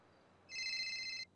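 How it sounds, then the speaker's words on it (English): Phone ringtone in the GTA V NoPixel roleplay game, one steady electronic trill lasting under a second that begins abruptly and cuts off, fairly clear over quiet background. "Oh, phone's ringing."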